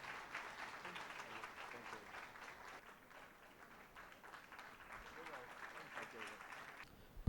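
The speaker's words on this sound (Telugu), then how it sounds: "మరొకసారి గట్టిగా చప్పట్లు కొడదాం" A church congregation at a year-end fasting prayer revival claps in steady, sustained applause, distant and somewhat faint, holding a continuous even patter from start to finish.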